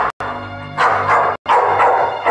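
Dog barking inside a home during a dramatic scene from an Iranian film, several loud close barks in quick bursts separated by brief silences.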